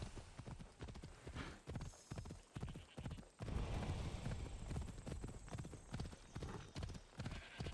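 Horse hooves gallop in Assassin's Creed Odyssey, a rapid clip-clop close up, joined by a neigh, with faint talk in the background.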